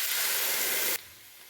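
Ground tomato hits hot oil seasoned with garam masala for a tomato chutney, setting off a loud, bright hiss of sizzling that lasts about a second, then drops abruptly to a soft, steady crackle.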